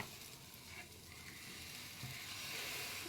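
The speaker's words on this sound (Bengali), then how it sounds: "এবার আমি বাকিগুলো সব ভেজে নেব" A semolina chilla fries in hot oil, giving a soft, continuous sizzle that stays steady and close with no voices.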